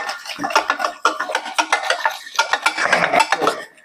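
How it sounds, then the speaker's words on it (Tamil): A spoon stirs chocolate mud cake batter in a bowl, making rapid, busy clinking and scraping against the sides, loud and close with a brief pause midway, and no voices. "S it's getting little chocolatey நல்ல மிக்ஸ் பண்ணுங்க"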